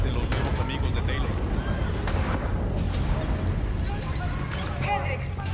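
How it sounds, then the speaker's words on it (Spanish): Dense, rumbling explosion blasts and crackling bursts from the video game Call of Duty: Black Ops III fill the scene, with a voice speaking Spanish over the chaotic noise. "se produjeron varias explosiones en las instalaciones"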